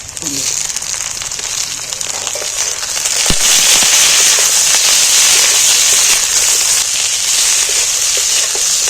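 Chopped capsicum and green chillies hit hot oil in a pan, bursting into a loud, dense crackling sizzle that stays steady and intense, with a brief voice near the start.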